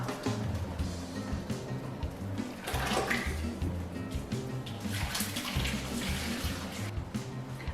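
Hot ricotta curds drain in a colander in a kitchen sink, with a continuous close rush of running, splashing water throughout.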